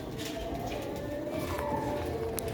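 A Sialkoti pigeon with pearl markings, just let go in an unfamiliar place, gives soft low cooing over a steady background hum, fairly faint and brief.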